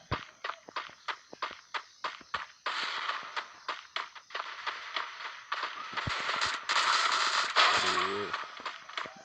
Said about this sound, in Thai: เก็บเสียงด้วยนะรู้สึกยิงจิ้วจิ้วจิ้วจิ้ว